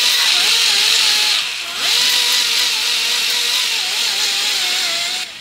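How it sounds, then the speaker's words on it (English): A bench grinder fitted with a Scotch-Brite wheel cleans metal parts from a Briggs and Stratton 20hp V-twin Intek engine, producing a loud, continuous whine close by that dips briefly in pitch as the work is pressed against the wheel. "I'm going to use my Scotch-Brite on my grinder here."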